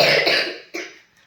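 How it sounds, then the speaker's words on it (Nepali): A baby coughing with phlegm in the throat: two close, wet coughs, a longer first burst followed by a short second one, with no talk. "खोकी लागेको छ अनि अलि घाँटीमा कफ बसेको छ"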